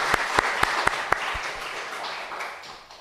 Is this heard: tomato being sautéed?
no